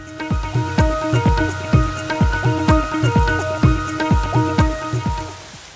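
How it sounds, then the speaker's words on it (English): Steady rain falling outdoors, a loud, continuous wash of drops with a rhythmic pattern of pulses repeating throughout, heard alone with no voices. "It's just raining and raining and raining."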